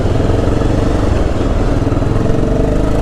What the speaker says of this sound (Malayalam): ഈ എക്സോസ്റ്റ് ഓൾറെഡി കുറച്ച് ലൗഡാണ്.